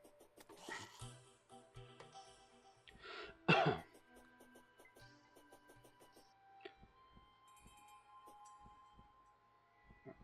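A person coughs and clears their throat a few times, faint apart from one louder cough, amid quiet room sounds.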